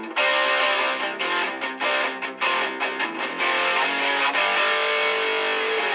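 Boss Katana amplifier with its distortion effect engaged, a thick sustained guitar tone with repeated picked attacks and ringing chords, loud and close throughout with no talking.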